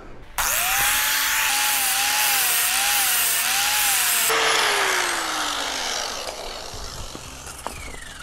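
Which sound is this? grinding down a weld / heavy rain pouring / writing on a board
grinding down a weld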